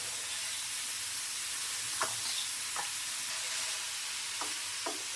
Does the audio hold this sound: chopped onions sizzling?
yes